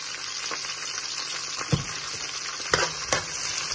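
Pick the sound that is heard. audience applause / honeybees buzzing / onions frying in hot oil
onions frying in hot oil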